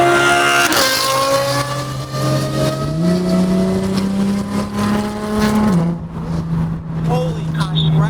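An Audi R8 supercar engine revs with a loud, sustained, rising drone that climbs, holds and then drops slightly, heard close up with voices occasionally over it.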